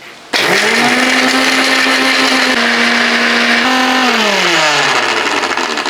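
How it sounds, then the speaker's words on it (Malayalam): A household mixer grinder whirs loudly and steadily as it grinds dry ingredients with no water added, its motor whine sagging in pitch near the end. "സാധാരണ നമ്മുടെ വീട്ടിലൊക്കെ ഉപയോഗിക്കുന്ന മിക്സിയൊക്കെ ഇല്ലേ"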